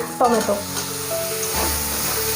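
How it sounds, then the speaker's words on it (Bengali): Chopped tomatoes sizzle in a spiced onion masala for an egg and pea curry, a steady frying hiss broken by a few clattering stirs of the spoon against the pan. "টমেটোটা মশলার সাথে খুব ভালোভাবে মিক্স করে নিচ্ছি।"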